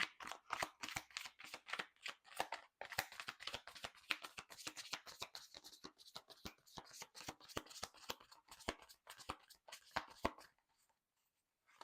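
A tarot card deck shuffled by hand, producing rapid, irregular crisp riffling and slapping clicks in dense bursts for about ten seconds before stopping, close and alone with no talk.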